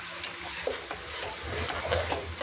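Crushed ginger, green chili and garlic are stirred in a pan for a fish biryani, a brief stretch of gentle frying sizzle with soft scraping stir strokes close by and no talking.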